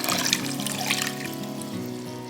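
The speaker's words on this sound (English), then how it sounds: "We're just gonna pour that right over." Beef broth is poured into a crock pot over pot roasts, a steady liquid trickle and splash heard up close against a faint background tone.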